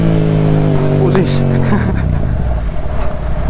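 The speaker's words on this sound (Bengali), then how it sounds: "পুলিশ দেখলে আমি আর একটু বাড়ায় দিই। ওরা বড় বাইকের সাউন্ড ওরা আরো পছন্দ করে।" A big motorcycle's engine revs loud and close, its pitch climbing and dipping over a deep steady rumble as the rider speeds up, with no talking.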